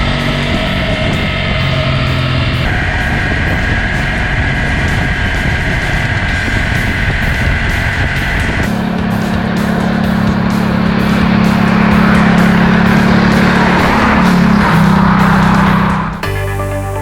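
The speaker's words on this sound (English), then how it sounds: "we've been out for a test ride on the new Ducati Multistrada Grand Tour 1260" A Ducati Multistrada Grand Tour 1260 motorcycle on a test ride along country roads, its engine droning steadily and loudly with shifting tone as the revs change, ending in a brief drop near the close, with no talking.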